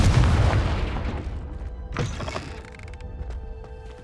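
Confringo fire spell from Hogwarts Legacy, played in 4K at 60 FPS, going off as a heavy booming blast that decays over a few seconds, followed by a smaller sharp impact and faint lingering rumble, loud and close with no talk.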